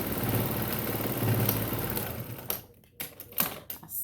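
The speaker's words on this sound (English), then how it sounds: "I like to sew over it a couple of times just to be sure." A sewing machine runs steadily through a fabric seam while sewing a scrappy bag, a close, even mechanical whir that cuts off partway, followed by a few soft handling clicks and rustles.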